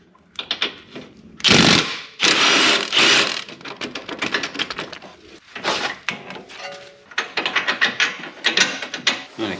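Ratchet working a 15 mm bolt loose on the front control arm bushing of a Chevy Cobalt, a busy run of rapid clicking bursts and metallic scraping with short pauses, close and fairly loud.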